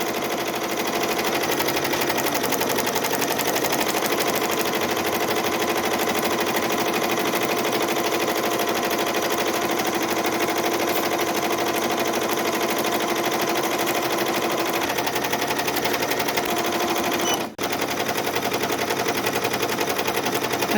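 A Ricoma EM1010 embroidery machine stitches an Easter basket design on a fast frame, a loud steady rapid needle chatter running continuously with one brief pause, no talking.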